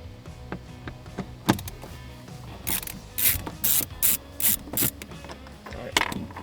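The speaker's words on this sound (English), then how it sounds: "So you're taking out both of these screws." A ratcheting screwdriver backs screws out of the dash trim of a RAM 2500 truck, producing a series of close, short clicking ratchet bursts in a quick rhythm, with a few knocks and handling sounds between.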